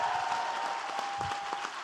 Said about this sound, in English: One more round of applause for both of our teams.